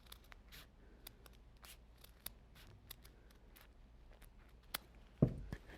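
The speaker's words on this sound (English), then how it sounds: "I'm just going to take my scissors and just cut a little arch" Scissors snip through a paper bag in a few quiet, sharp cuts spaced across a hushed room, faint and close, with a slightly louder rustle of the paper near the end.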